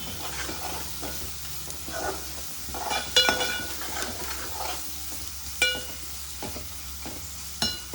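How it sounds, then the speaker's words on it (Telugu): Ginger paste fries in a pan for a tomato bommidalu curry: a steady, close sizzle with a spoon stirring through it and a few sharp metallic scrapes and clinks against the pan. "కొద్దిగా పచ్చివాసన పోయేదాకా మనం దీన్ని ఇట్లా ఫ్రై చేద్దాం."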